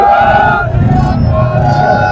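A political rally crowd answers a Sikh jaikara, many voices chanting together loudly and continuously over background babble, with no single speaker standing out.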